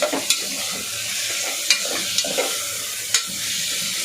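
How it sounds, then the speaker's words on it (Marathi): Tomatoes frying in a pan for a whole masoor egg masala, a loud steady sizzle close by, punctuated by a few sharp utensil clicks as they are stirred. "आता आपण टमाटे घालूया चांगला फ्राय करून घेऊया"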